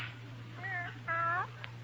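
A house cat gives two short meows in quick succession, the second louder and longer, over a steady low hum in an old radio drama scene.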